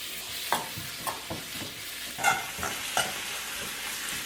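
Chopped tomatoes and vegetables sauté in a pan for chicken upma while a spoon stirs them, making a steady sizzle broken by about seven scraping strokes at a loose, irregular rhythm. The sound is close and fairly quiet, and no one speaks.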